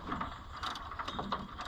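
Ratchet wrench clicks while loosening bolts on a 1972 Ford Galaxie 500 with a Ford 400 V-8, giving short bursts of quick mechanical ratcheting, close and moderately loud.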